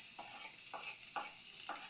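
Garlic frying and browning in a small amount of oil in a pan, a soft steady sizzle broken by four evenly spaced stirring scrapes, close but quiet, with no talking.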